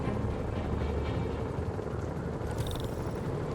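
Helicopter in Marvel's Spider-Man Remastered on PS5, a steady loud rotor thrum and engine rumble filling the scene continuously, with a brief higher whine near the end and no talking.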